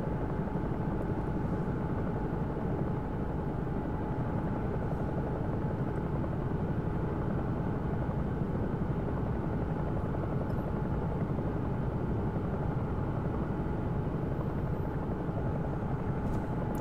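Bell 222 air ambulance helicopter in the X-Plane 11 flight simulator, a steady, loud rotor and turbine drone holding constant throughout with a faint whine above it, with no talking.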